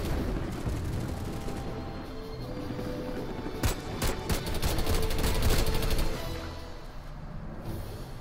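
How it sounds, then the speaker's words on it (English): Gunfire from the Planetside 2 video game rattles in dense, continuous bursts over steady battlefield noise, with a sharper cluster of shots in the middle, moderately loud and without talk. "someone shooting, like, right here."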